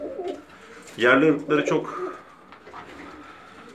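Bulgarian pigeons coo briefly and softly, mixed under someone talking in Turkish.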